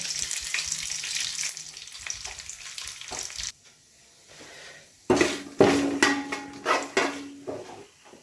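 Whole spices, shahjeera, cloves, cardamom, dried chillies and cinnamon, frying in hot oil in a pan, crackling and sizzling with metal clatter, a brief quiet lull, then livelier popping and stirring.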